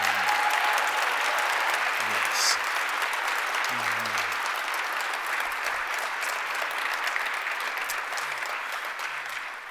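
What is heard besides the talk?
resounding round of applause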